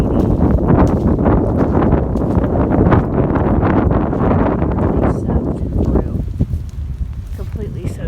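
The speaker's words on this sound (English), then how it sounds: "It's windy and cold and rainy." Cold, rainy wind gusting along the Appalachian Trail during a thru-hike, a loud, steady low rumble buffeting the microphone for the whole stretch and easing slightly toward the end.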